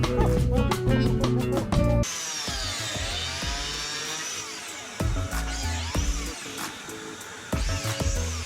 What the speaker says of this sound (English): To join these slats, I'm going to use a biscuit joiner.